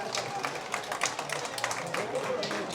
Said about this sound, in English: Getting applause there from the crowd.